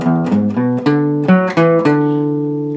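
Electric guitar plays a song's full riff, a quick run of clearly plucked single notes on the low strings that climbs step by step and ends on a sustained ringing note, heard clean and up close.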